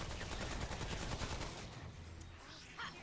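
Rapid gunfire from a gun in the video game Remnant: From the Ashes, a fast, steady burst of shots in the first half that tapers off into a quieter tail.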